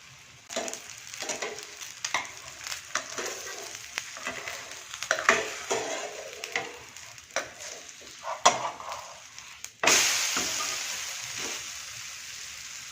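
A paratha roasts on a hot pan with soft, intermittent sizzling and scraping taps, then a sudden louder hiss bursts up near the end and slowly fades.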